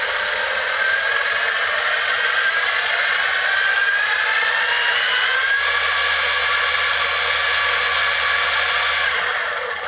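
An overheating, smoking electric skateboard motor whirs steadily at high pitch, a close, continuous whine that climbs slightly in tone, with no voices over it.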